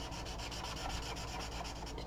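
Chisel tip of an Aspire color marker rubbed quickly back and forth over paper to blend colours, a steady close scratchy rubbing hiss with faint rhythmic strokes, no voices.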